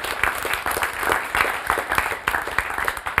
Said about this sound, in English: Please clap for yourselves once again.